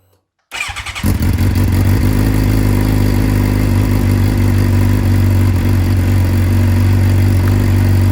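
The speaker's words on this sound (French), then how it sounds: "Je vais la démarrer avec le DB Killer." A Suzuki GSX-R 750 motorcycle fitted with a dB killer in its exhaust cranks briefly and fires up, then settles into a steady, loud, close idle that runs on alone.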